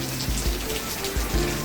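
Steady rain pattering outdoors, recorded on a Samsung Galaxy Z Flip phone: a continuous, fairly loud wash of drops with a few heavier splashes and a faint voice underneath.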